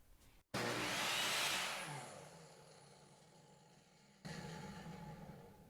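A budget Vevor table saw blade spins down after a plywood cut, its broad whirring hum fading gradually from loud to low over several seconds, with a short bump in level near the end.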